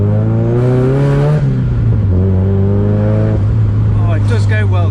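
A straight-piped big-turbo Mazda MX5 engine revs loudly and close, its harmonic drone rising and falling through several steady swells before a sharper burst near the end, with continuous loud roar filling the whole stretch.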